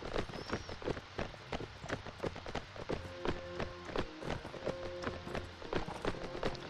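Galloping horse hooves thud in a steady, rapid rhythm in the medieval combat video game Mount and Blade Warband, loud and close, with a faint tonal game sound partway through.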